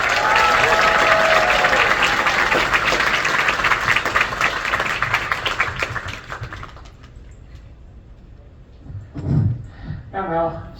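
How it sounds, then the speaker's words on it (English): Crowd applause and clapping at a furry convention closing ceremony, loud and dense for about seven seconds before fading out, followed by a brief voice. "So huge round of applause for Stoli as well."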